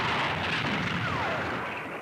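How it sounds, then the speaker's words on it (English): Cannon salutes fire during a nineteenth-century army march into Santa Fe, heard as a continuous heavy booming rumble that fills a short stretch without distinct gaps. "100 hearty cannon salutes cheered the weary soldiers as they plodded into Santa Fe"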